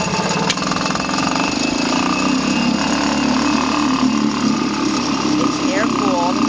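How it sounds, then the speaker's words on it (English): A 1940 Waterwitch 3/4 hp air-cooled outboard motor runs steadily, a loud, close, continuous buzzing drone with a faint rattle that holds even throughout. "I haven't seen many of these motors running, and this one runs quite well."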